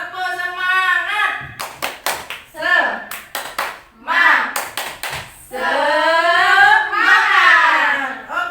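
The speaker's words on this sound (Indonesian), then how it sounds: "Tepuk semangat." A group claps in quick rhythmic bursts, alternating with voices chanting together in a lively call-and-response pattern.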